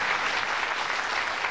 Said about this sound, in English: Give them a nice warm round of applause.